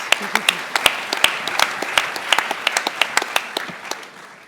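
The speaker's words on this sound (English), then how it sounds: "give him a big applause" Audience at a startup demo day anniversary event clapping, a burst of dense, scattered hand claps that gradually fades out, with some talk underneath.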